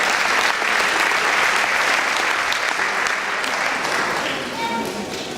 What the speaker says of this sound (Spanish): Si puedes, así atrás está Gary, podemos darle un aplauso.